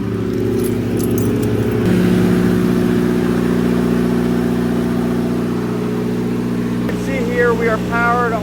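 A turbocharged diesel generator idling with no load at a high school during a power-outage test, giving a steady loud engine drone with strong low tonal hum and harmonics. A person speaks briefly over it near the end.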